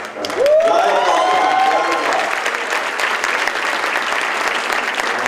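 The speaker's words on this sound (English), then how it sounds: "a round of applause for the beautiful, well, handsome Naveen Sharma and beautiful Pooja" Applause for a bride and groom at a wedding reception, a steady dense wash of clapping that rises quickly near the start and holds loud for several seconds, with a brief whistle-like tone early on.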